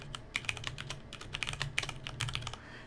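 Rapid, close keystrokes on a computer keyboard typing a project name into the Godot game engine, a steady clatter of clicks over a low background hum, with no talk.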